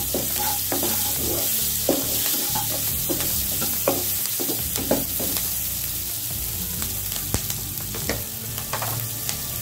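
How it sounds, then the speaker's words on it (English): Onions sauté in a pan over low-medium flame for a kidney bean side dish, giving a steady, close sizzle and frying hiss throughout, with occasional stirring scrapes and clicks. "Saute this for 2-3 minutes until it"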